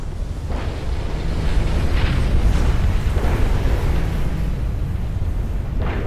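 Deep booming shell hits and a roaring flash fire aboard a warship in the naval game Ultimate Admiral: Dreadnoughts, a continuous rumbling roar with several muffled impacts, loud and sustained without talking.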